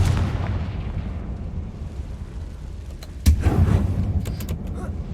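A deep rumbling blast from the Confringo fire spell in Hogwarts Legacy, set in a mine shaped like a tomb, with a low boom rising midway followed by sharp crackling impacts.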